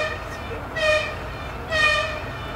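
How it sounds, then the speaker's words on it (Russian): A container freight train arriving at a station sounds two horn blasts about a second apart over a low rumbling background, with no one speaking. "Контейнерный поезд из Финляндии по расписанию прибывает на станцию Вярцеля."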